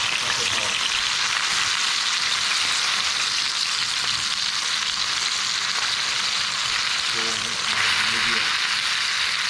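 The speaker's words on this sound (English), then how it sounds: "So you're going to sear it until golden brown, press it down hard for maybe a minute or two on each side" A tomahawk ribeye steak sears in a hot pan, cooked by the reverse sear method, with loud continuous sizzling and frying hiss throughout, close and steady, with occasional faint background sounds.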